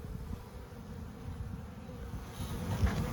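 Honeybees in a small, weak hive buzz in a steady, low drone that holds close and even throughout, with no talking over it.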